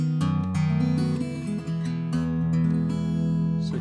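Sandon R14, a small-bodied mahogany acoustic guitar, played through a microphone: a short run of clear plucked notes and strummed chords with bright overtones, close and steady, with no voice.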